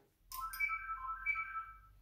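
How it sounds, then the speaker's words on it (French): A home telephone rings in two warbling electronic bursts, moderately faint, with no one speaking. "Excusez-moi, c'est le téléphone de la maison"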